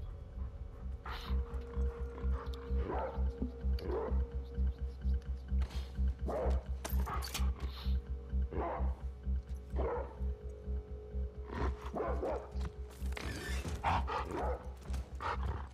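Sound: dog barking in The Last of Us Part II video game

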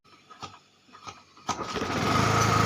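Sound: scooter engine revving after kick start

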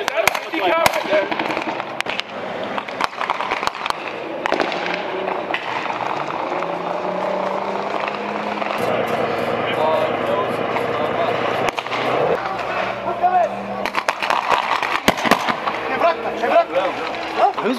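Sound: weapons firing during a military exercise

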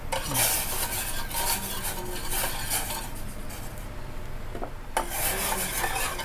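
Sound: stirring sugar in liquid until it dissolves

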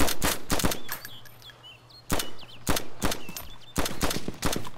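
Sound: gunfire in the video game DayZ

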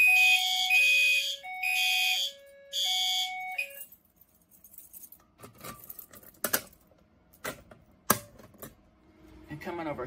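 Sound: Fire-Lite BC12L fire alarm device sounding during test

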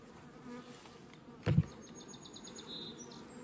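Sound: honeybees flying around hives

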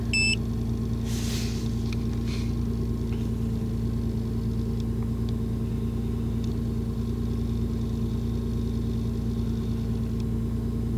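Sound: car engine idling while running a diagnostic scan

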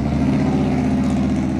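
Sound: loud truck engine on the road

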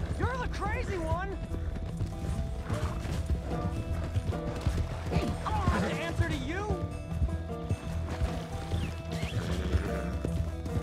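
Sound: horse galloping in video game Red Dead Redemption 2

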